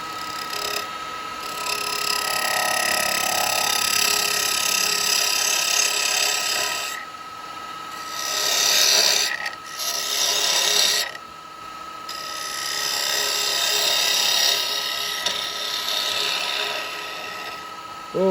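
A 3/8 bowl gouge cuts a Purple Heart wood tea light holder on a lathe, giving a steady, close hissing scrape with a few short breaks as the tool lifts off and re-engages.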